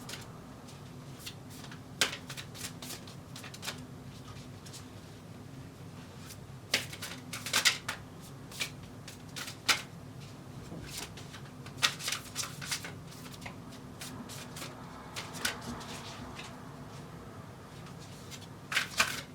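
Tarot cards are shuffled by hand in irregular bursts of crisp riffling slaps and flicks, close and fairly quiet, with brief pauses between the clusters.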